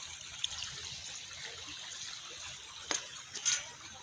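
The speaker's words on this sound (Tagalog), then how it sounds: "Ito po yung kanilang ilog." A clean, shallow river flows steadily beneath a hanging bridge, a soft continuous rush and trickle with a few brief splashes.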